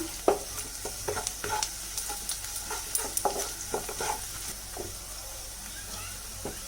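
Mushrooms fry in a kadai with chili powder and turmeric as a spoon stirs them, giving repeated scraping knocks over a soft, continuous sizzle close by.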